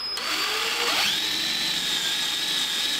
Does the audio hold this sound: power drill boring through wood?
yes